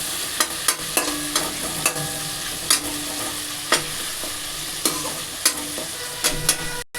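Tomatoes fry in a pan with a steady close sizzle, broken by repeated light clicks and scrapes of a spatula stirring at an uneven rhythm.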